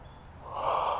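A long, steady inhalation during a yoga flow, drawn through the nose and swelling louder toward the end of the breath, close up with no words spoken.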